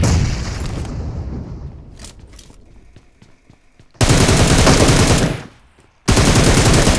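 Loud, close automatic gunfire in the mobile shooter PUBG Mobile, a dense burst that fades into scattered distant shots, then two more sustained bursts separated by a short gap.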